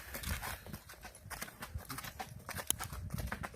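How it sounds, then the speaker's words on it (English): A well-trained horse named Onyx walks with steady clip-clopping hooves, close and continuous, with faint background noise and no talking over the steps. "Well-trained horse."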